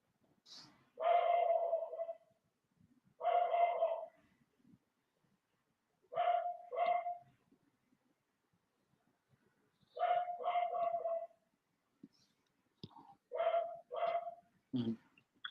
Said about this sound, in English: what you barking at, buddy?